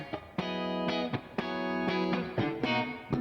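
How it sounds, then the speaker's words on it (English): A tonal synth or instrument line runs through the Antelope Audio Synergy Core distortion effect plugin, giving a gritty, saturated series of sustained notes with sharp attacks roughly every half second, loud and alone. "Hear the distortion coming in."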